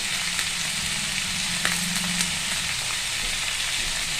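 Ginger, chili and cumin paste fries in a pan with a steady close sizzle and crackle, broken by a few soft stirring knocks and no voices.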